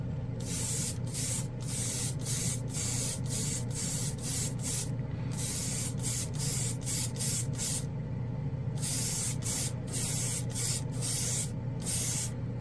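Airbrush spraying Gloss Black metal paint in hobby work, a soft close hiss pulsing in short repeated bursts over a steady low hum, no voices.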